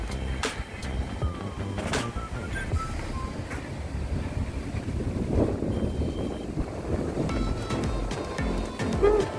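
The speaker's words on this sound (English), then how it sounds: "Very windy." Strong wind buffets the microphone in gusty, rumbling bursts at Turtle River Park in Ocho Rios, Jamaica, with a faint sound of water in the background and no voices.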